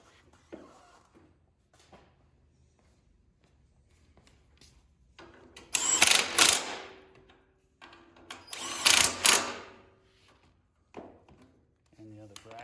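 Bolts on a plow bracket for an original International Cub Cadet are run tight with a power driver in two loud whirring bursts, separated by quieter clinks and handling noises nearby.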